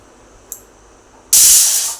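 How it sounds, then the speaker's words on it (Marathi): A pressure cooker on a home stove, cooking dal pakwan, lets out a loud, sharp steam whistle: a brief faint hiss, then a strong close jet of hissing steam lasting under a second before easing off. "पहा एक सिट्टी झाली आहे"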